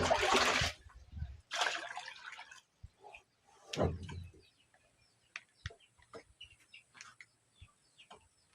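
Water poured out onto the ground on a hot day. It comes in three separate splashing gushes, the first the longest, followed by faint dripping and scattered small sounds.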